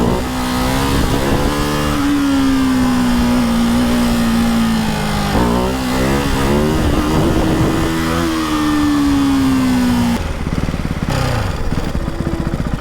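A Ducati 698 Mono single-cylinder motorcycle revs hard during a small wheelie, loud and close. The engine note climbs and drops through several rises, then cuts back near the end.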